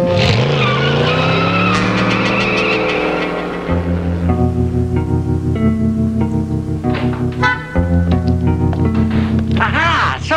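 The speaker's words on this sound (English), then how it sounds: "You go and park the car." Tires squeal and skid in long, high-pitched wails as a car is parked in a sitcom scene, with engine noise underneath and brief bursts of voices between the screeches.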